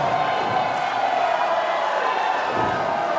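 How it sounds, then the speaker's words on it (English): A Toronto wrestling crowd cheers and roars without a break after the big man goes down in a tag-team match. The crowd noise is dense and fills the whole space at an even, loud level. "the Toronto crowd going crazy here"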